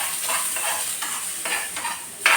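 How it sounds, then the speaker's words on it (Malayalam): Banana slices frying in ghee are stirred with a spoon, giving a steady close sizzle broken by repeated scraping strokes roughly every half second, with a sharper clink at the end. "ഇതൊരു യെല്ലോ ഷെയ്ഡാവുന്നതാണ് വരെ ഇളക്കി കൊടുക്കാം"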